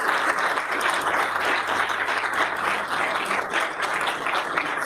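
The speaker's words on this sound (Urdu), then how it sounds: "تالیاں ذرا زیادہ ہونی چاہیے" Audience applause fills a gathering focused on women's installment payments, a steady dense wash of clapping with a voice speaking briefly over it.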